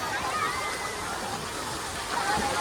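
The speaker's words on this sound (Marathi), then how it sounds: "पाणी उडतंय आणि जमलेला आहे पूर्वांशला." Continuous splashing and rushing water at a water park, with small children playing, fills the scene, steady and fairly loud, with voices of a crowd mixed in.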